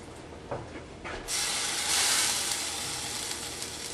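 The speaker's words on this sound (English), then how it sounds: "the water droplets just turning to steam and boiling out" Flicked water droplets sizzle and hiss in a pancake pan on medium-high heat, with a few quick pops at first and then a loud, steady steaming hiss that swells and carries on to the end.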